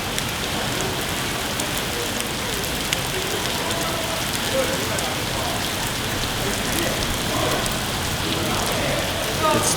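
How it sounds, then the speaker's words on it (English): Heavy pouring rain at dinnertime, a dense, steady hiss of drops pattering on surfaces close by, continuous and unbroken throughout. "It started pouring rain while we were eating dinner just now."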